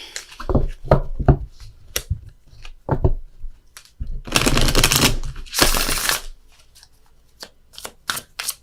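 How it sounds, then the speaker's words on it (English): Tarot cards are reshuffled by hand after being dropped on the floor: scattered taps and shuffles give way to two loud, dense riffling bursts, then lighter clicks of cards settling. "Dropped a load of cards here on the floor, so I gotta shuffle"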